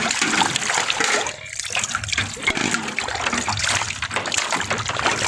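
Running water while dishes are washed by hand before an event, a continuous splashing trickle with clinks and rattles, fairly close and loud throughout.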